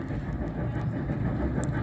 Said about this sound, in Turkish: Bu arada tren geliyor.